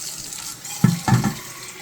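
Warm tap water running briefly into a French press at a kitchen sink to heat it, a short splashing gush of about half a second that starts quietly and stops abruptly.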